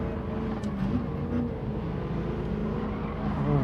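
An old race car in Gran Turismo 7 holds a steady, throaty engine drone at high revs, loud and continuous with only slight swells as it drives on.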